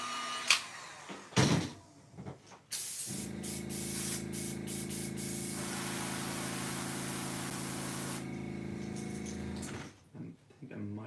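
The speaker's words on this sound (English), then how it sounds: "When you have too much water in your airbrush, sometimes it'll spray a bunch of water through." Budget airbrush spraying paint mixed with excess water onto a crankbait fishing lure, a steady hissing spray running for several seconds between short bursts, close and fairly quiet.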